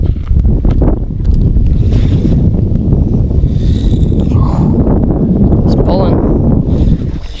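Strong wind blowing across a lake during bass fishing from a drifting boat, a loud continuous rushing roar buffeting the microphone, with faint knocks against the hull.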